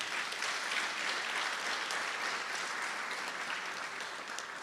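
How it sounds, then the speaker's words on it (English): An audience at a ribbon cutting ceremony for the Martin Luther King Jr. Center applauds, a steady wash of many hands clapping that carries through the whole moment and eases slightly at the end. "That deserves a round of applause."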